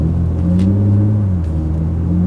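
A BMW G80 M4 Competition engine gives a deep, loud, close rumble that rises and dips slightly as the car is shifted into drive, with no voices.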